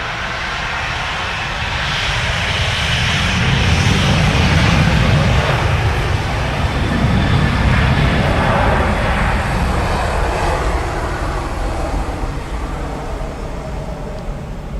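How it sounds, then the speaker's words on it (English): Ryanair airliner taxiing at Dublin Airport, a loud steady jet engine rumble and whine that swells slightly and holds, heard from nearby with no voices. "As a Ryanair off to Nottingham taxis"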